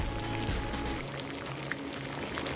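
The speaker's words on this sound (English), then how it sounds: "When we put the ice cube on a hot pan, it starts to melt immediately." Ice cube melting on a hot pan, a steady sizzling hiss with soft bubbling and crackle, close and continuous throughout with no voices.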